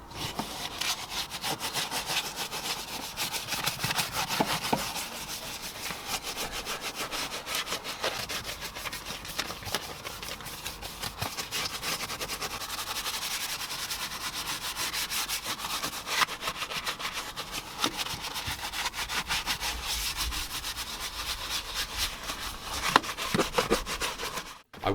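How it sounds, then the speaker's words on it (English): A stiff-bristle Tough Shine tyre brush scrubs the filthy carpeted footwells of a work van, a continuous close, rasping back-and-forth rubbing with no voices. "going back at it with a stiffer bristle Tough Shine tyre brush"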